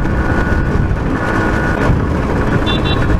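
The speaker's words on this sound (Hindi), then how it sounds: "स्कूटर की आवाज सुन रहे हो?" Super scooter engine droning steadily while riding, a loud continuous rumble with road and wind noise throughout and a brief high beeping tone near the end.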